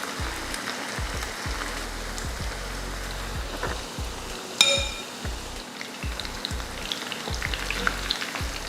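Chicken 65 pieces frying in hot oil give a steady crackling sizzle throughout, with a faint background hum and a brief metallic clink partway through; no one speaks.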